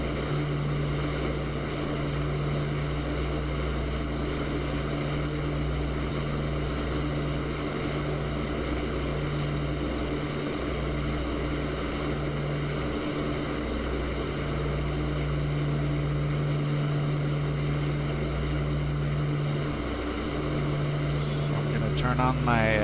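Twin piston engines of a de Havilland Mosquito in the DCS flight simulator drone steadily with a deep, even propeller hum that holds constant throughout, with a short burst of cockpit clicking near the end.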